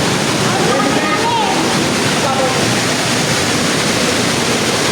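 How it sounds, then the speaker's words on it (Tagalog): Water rushing steadily through a cave, a broad continuous wash that fills the space, with faint voices drifting in beneath it. "May naririnig tayong agos ng tubig"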